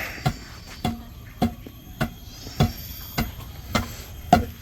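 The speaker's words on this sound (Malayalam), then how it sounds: "നമ്മുടെ പഴയ ഉരകല്ലിട്ട് ഇടിച്ച് പൊടിക്കുകയാണ്" Roasted coffee beans pounded with a traditional stone in a Kopi Luwak coffee kitchen, a steady series of about eight heavy, evenly spaced thuds, close and clear with no talk.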